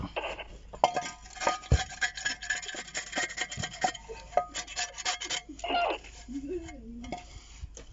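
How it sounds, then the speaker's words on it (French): Scraping an old gasket off the oil pan of a Kubota engine from an Axiam microcar, rough rasping strokes in irregular bursts close by, with a few metallic knocks and a voice speaking briefly near the end. "vous grattez tout ce qu'il y a vraiment qui dépasse"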